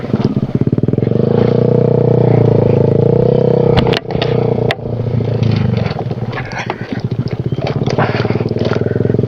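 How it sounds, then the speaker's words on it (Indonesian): A motorcycle labours along a rough, punishing trail on the way to a waterfall, its loud engine droning steadily up close with brief dips, clattering and scraping over uneven ground. "Ini benar-benar jalurnya nyiksa motor guys."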